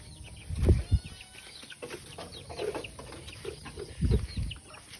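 Chickens cluck and murmur close by, with a few louder low thumps and scattered soft calls in a busy barnyard.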